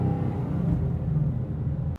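A car's exhaust, modified to mimic the Turbo Interceptor from The Wraith, holds a steady, deep idling rumble for two seconds, close and fairly loud, then cuts off abruptly.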